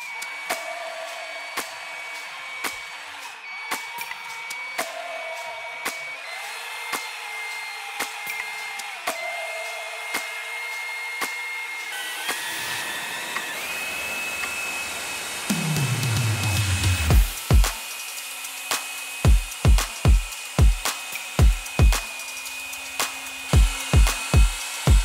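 A glass smooth-top cooktop being buffed with polish to remove scratches: a steady electric buffer whirs for a long stretch, then shifts pitch and ends in a run of sharp knocks and bumps near the close.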